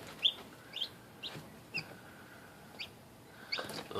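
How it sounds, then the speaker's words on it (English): Little young chickens in a bird house give soft, high cheeps and clucks, about seven short calls spaced irregularly, faint and close with quiet background between them. "And here are the little chickens."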